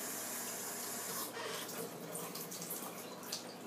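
Hands covered in tamale juice rinsed under a running kitchen tap, a steady close splash and hiss of water into a sink with faint shifts as the hands move through the stream, no talking.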